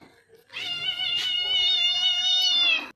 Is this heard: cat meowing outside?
yes